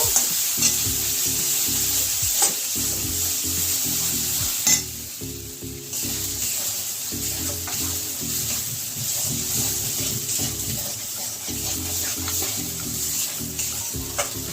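Ginger and garlic paste sizzles and fries in hot oil in a pan while making Bengali pointed gourd with prawns, with close, rhythmic scraping of a spatula stirring through a steady crackle and a brief lull midway.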